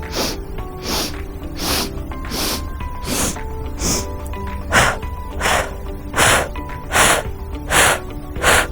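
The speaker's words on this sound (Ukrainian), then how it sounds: "знову повітря вдихаємо носом. Ну а видих здійснюється ротом" Rhythmic breathing exercise, air drawn in through the nose and let out through the mouth in short segmented bursts: roughly a dozen close, fairly loud puffs and sniffs in a steady pulse, with no talk.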